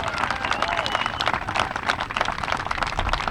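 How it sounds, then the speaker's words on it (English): Crowd applause and cheering at an outdoor political rally in New York's North Country, a dense continuous wash of many hands clapping with scattered voices mixed in, steady and fairly loud throughout. "Let's give a big round of applause."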